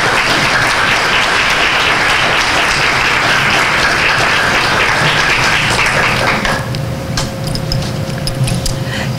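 A lecture audience applauding lecturer Annette Becker as she is welcomed to the society, loud sustained clapping that fades out near the end, leaving quiet room tone.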